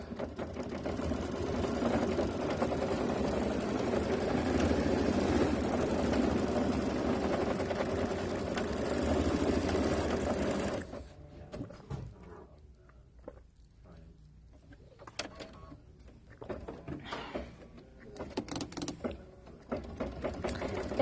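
A KimberBell embroidery machine stitches quilting on a Charming Roll-Up Pouch, a steady loud whirring run for about ten seconds that stops abruptly, followed by quieter room sounds and faint talk.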